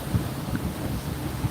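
Twin boat engines turning 2,000 rpm at about 8 knots offshore between Palm Beach and Fort Pierce give a steady low drone, mixed with constant wind buffeting and no talk.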